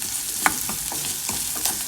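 Salt and asafoetida being sautéed in a pan for banana leaf kozhukatta, a steady close sizzle with a few sharp stirring scrapes and clicks, no voices.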